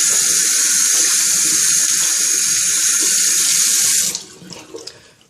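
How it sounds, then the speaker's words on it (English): Hands are washed under a running sink tap, a loud steady hiss of flowing water close by for about four seconds before the water stops and leaves faint drips and handling sounds. "Now that I've got that, wash my hands a little bit."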